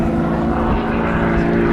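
A Pitts S-2S aerobatic biplane with a loud, steady propeller-engine drone as it tips into a high-speed rolling dive at an air show, holding a constant pitch throughout.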